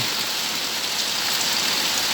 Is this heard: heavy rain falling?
yes